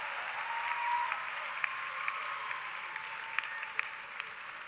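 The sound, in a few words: audience applauding engineering graduates at a commencement ceremony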